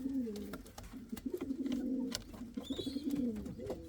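Indian fantail pigeon chicks in a breeding setup, soft low cooing and murmuring calls close by, continuous and fairly quiet, with a faint higher chirp partway through.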